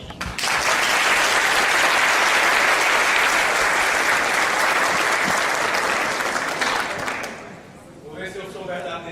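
An audience gives loud, sustained applause at the close of an event, a dense wash of clapping for about seven seconds that then fades as a voice begins speaking.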